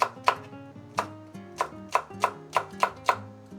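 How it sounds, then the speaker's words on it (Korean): A knife chops through two Cheongyang chili peppers on a cutting board, giving about nine crisp, evenly spaced close knocks over soft kitchen background sound. "청양고추 두 개 송송 썰어 주세요"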